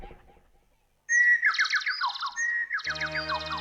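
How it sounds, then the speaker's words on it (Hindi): Small birds chirp and trill in quick repeated bursts, fairly close and loud, after a brief quiet start, with a steady low hum joining near the end. "अरे ये कहां से आवाज आ रही है चिड़ियों की?"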